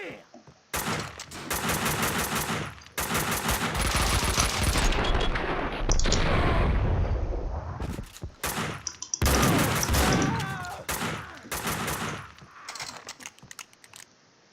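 Rapid bursts of gunfire from the Max Payne 2 video game, loud and dense, with sharp shots and automatic volleys stopping and starting in clusters, plus brief gaps between exchanges.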